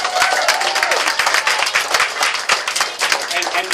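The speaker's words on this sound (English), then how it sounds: "Y'all give her a round of applause." Loud, close crowd applause with lively overlapping claps at a community car and toy giveaway, sustained throughout with a voice briefly heard over it.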